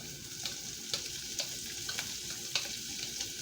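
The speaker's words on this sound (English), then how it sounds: "I'm going to add my onions" Onions sizzling in a pan while green beans are being cooked, a soft, even frying hiss close by, with occasional light clicks and scrapes from stirring.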